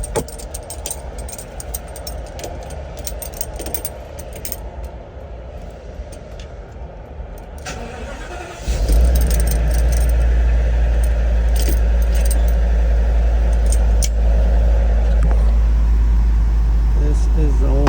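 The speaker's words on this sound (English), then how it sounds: "Got the truck running." Ford truck engine cranking and catching partway through, then idling loud and steady close by, after a stretch of keys jangling in the old ignition; someone talks over it.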